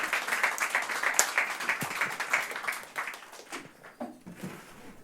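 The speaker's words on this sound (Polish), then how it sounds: "Przed wami wielkie brawa Romek Kostelecki!" Audience applause welcoming stand-up comedian Roman Kostelecki at a Polish comedy show: dense, steady clapping from a full room that thins and fades toward the end.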